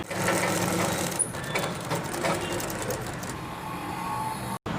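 A sewing machine stitches a 2-inch strip onto a men's kurta, running in a steady close whir that stops briefly near the end.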